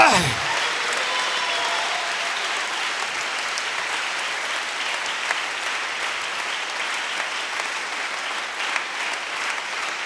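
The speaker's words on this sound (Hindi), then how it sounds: "जोरदार तालियां अपने आसमानी डैडी के लिए" Loud, sustained clapping from a church congregation fills the whole stretch, a dense steady wash of many hands with no break.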